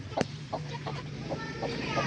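A hen clucks in short, evenly spaced bursts beside her newly hatched chicks, the calls moderately close over a steady farmyard hum.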